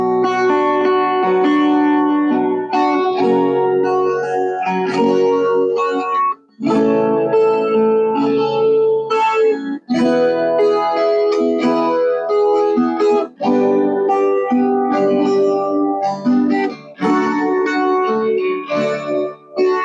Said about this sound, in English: But this is how it sounds on a 12-string guitar.